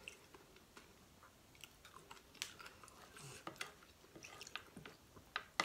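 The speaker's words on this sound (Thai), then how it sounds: "กัดเข้าไปโดนกุ้งนุ่มๆโดนถั่วกรอบๆกรุบๆมันๆ" Close, crunchy chewing of Thai som tam with strawberries, fresh shrimp and crisp peanuts, with soft wet bites and crackly crunches scattered irregularly through a quiet room, no talking.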